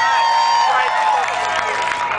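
A large outdoor festival crowd at Seattle Hempfest cheers, whoops and applauds loudly and continuously, with whistles piercing the dense roar of many voices.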